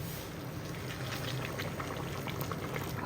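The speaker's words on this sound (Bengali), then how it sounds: "এবার এর মধ্যে গরম জল ঢেলে দেবো" Hot water pours into a pot of browned mutton curry, leaving a low, even bubbling and hissing that stays faint and continuous throughout.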